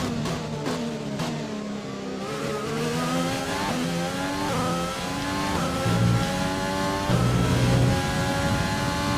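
Formula 1 car in the F1 2020 racing game on a flying lap, its high-pitched engine note climbing and dropping through rapid gear changes, loud and continuous with no talk.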